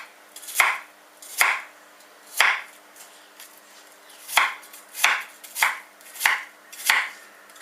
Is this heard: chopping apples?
yes